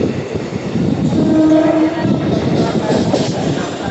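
A local train on the Howrah to Barddhaman chord line rumbles steadily from inside a carriage, loud and close, with a faint horn-like tone in the middle.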